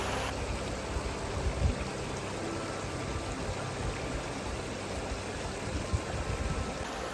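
Mission Creek flows in a steady, broadband rush, a constant mid-level water noise with small bumps and no voices over it.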